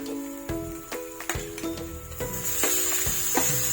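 Onions and tomatoes sautéing in a hot pan for egg tomato thokku: a steady close sizzle broken by repeated sharp scrapes and clanks of a spoon stirring, growing slightly louder toward the end.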